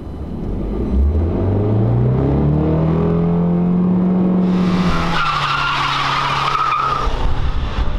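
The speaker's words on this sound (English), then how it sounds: "Well, Josh, that was officially the worst burnout I've ever seen." A car does a poor burnout on a road with too little tire grip, its engine rumbling and rising in pitch as the tires skid and then squeal loudly and steadily for several seconds, with no talk.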